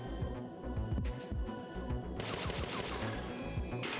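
Rapid bursts of enemy automatic gunfire in the video game Parasite Eve 2, sharp repeated shots in quick rhythm with a louder burst near the end.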